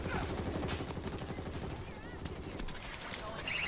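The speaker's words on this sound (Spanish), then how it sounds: "Yo quiero seguir disparando." Rapid bursts of gunfire from a zombie-shooter video game, World War Z, pound steadily throughout, loud and dense, with game sounds layered over them.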